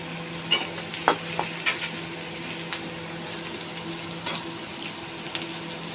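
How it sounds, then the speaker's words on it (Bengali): Onions fry in a pan with a continuous soft sizzle, broken by several sharp clinks and scrapes as they are stirred, loudest near the start and fading to sparser taps. "পেঁয়াজটা একটু হালকা ভাজা হবে,"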